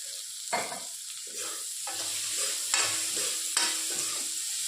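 Garlic and onion sputter in a pan of hot oil as a spatula scrapes and clacks through them in several distinct strokes, over a constant bright sizzle; nobody talks.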